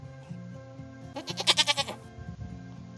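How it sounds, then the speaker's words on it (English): A farm goat gives a single wavering bleat of several quick pulses, close and clear, against a quiet background with a faint low hum. "Oh, that's our goat."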